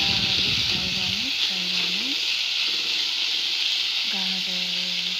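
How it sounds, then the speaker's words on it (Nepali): Instant noodles (chow mein) fry in a pan with a steady, bright sizzle that runs unbroken through the clip, while a person talks over it. "मजाले फ्राई गर्ने"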